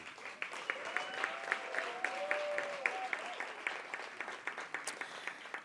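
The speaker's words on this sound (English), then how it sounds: "May you please give yourselves a round of applause." Scattered hand claps at an awards night ring out in a quiet hall, a thin, uneven patter of individual claps with faint tones sounding beneath, soft and somewhat distant throughout.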